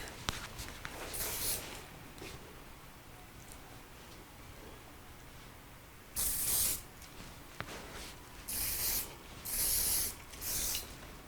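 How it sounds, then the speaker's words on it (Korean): Short bursts of aerosol hair spray misted over a short, blow-dried bob, four or five quick hisses in an uneven rhythm, close up, with quiet rustling and handling between them. "스프레이를 살짝 뿌려주시면 돼요."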